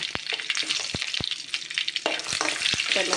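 Mustard seeds, chana dal and other tempering spices fry in hot oil on a stove, a steady crackling sizzle broken by sharp pops and clinks of stirring, close and fairly loud throughout.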